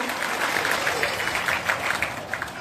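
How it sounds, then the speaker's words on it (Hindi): Audience applause at a crowded political rally, dense and continuous clapping with small rises in intensity, moderately loud and steady for the whole short stretch. "तालियों में थोड़ा गड़गड़ाहट होना चाहिए"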